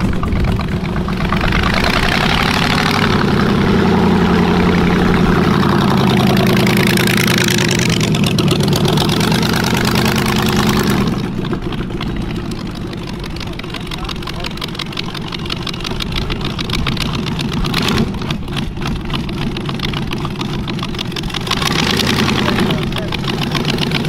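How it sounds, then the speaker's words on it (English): Chevrolet 350 V8 making 402 horsepower, mounted in a full-size Hot Wheels Twin Mill replica, runs with a steady, loud rumbling idle and revs that swell early then settle, with speech-like voices over it throughout. "The first one includes a Chevrolet 350 V8 engine, making 402 horsepower, a top speed of 160 miles per hour, and now let's hear that thing roar!"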